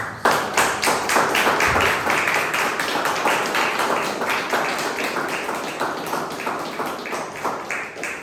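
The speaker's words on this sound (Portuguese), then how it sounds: "Vamos aplaudir Jesus." A church congregation claps together in a brisk, even rhythm, sharp hand claps repeating through a worship service and slowly easing in loudness, with no talk over them.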